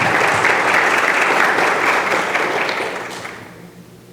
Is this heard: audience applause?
yes